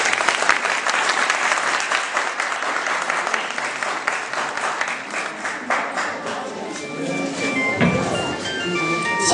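A crowd at a scout gathering in Ksar, Mauritania, gives sustained, dense applause. The clapping stays loud and continuous throughout, with faint tonal sounds creeping in near the end.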